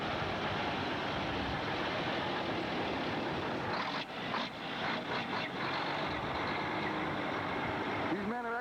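Heavy logging trucks, double tractor-trailers, rumble along a logging road in a continuous loud engine roar with tire noise, and a brief whining tone rises near the end.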